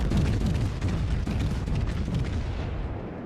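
Deep, continuous booming from a battleship's main guns (USS Wyoming, BB-32) in a World of Warships naval battle, a dense, loud wall of low rumbling blasts that fades slightly toward the end.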